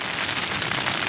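Rain falls steadily on a surface outdoors, a dense close hiss of drops with no pauses and no voices.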